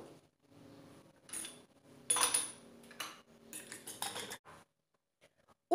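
Two whole eggs are briefly beaten with a utensil in a bowl, heard as a few short, quiet bursts of clinking and tapping separated by near-silence.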